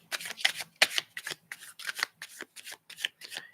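A deck of tarot cards is shuffled by hand in quick, close riffles and slaps, about a dozen short bursts in an uneven rhythm, alone without talking.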